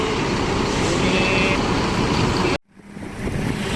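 An MPM intercity bus drives past from the direction of Bukit Tinggi, a loud roar of engine and road noise that cuts off abruptly, then quieter traffic builds back up.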